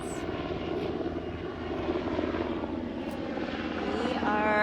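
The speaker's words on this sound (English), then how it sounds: "The helicopters are pretty loud." Helicopter rotors and engines drone steadily from a distance, a constant rumbling hum that swells slightly toward the end.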